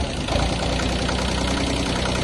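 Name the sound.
Kubota B1-15 mini tractor engine running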